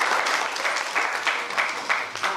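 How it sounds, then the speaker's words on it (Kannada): Loud, steady applause from an audience in a hall at a staging of a historical Kannada play about Kempegowda, dense clapping with rhythmic swells throughout. "ಜೋರು ಚಪ್ಪಾಳೆ ಮೂಲಕ ಅಷ್ಟೇ ಇವತ್ತು ನಾನು ಮಾಡ್ಕೊಳ್ಳೋದು"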